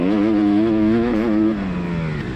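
Black Panther 600 two-stroke motocross bike engine revving on track, a loud buzzing tone rising and wavering, then dropping as the throttle eases.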